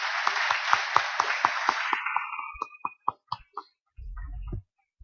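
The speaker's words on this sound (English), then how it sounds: "So a little round of applause for the grade 12s." Applause from a small school audience after grade 12 students' speeches, a brief burst of clapping that thins out into a few scattered claps and then stops.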